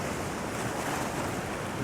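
Big ocean waves roll in at the coast at sunrise, a loud, continuous wash of surf and rushing water with wind noise on the microphone and no voices.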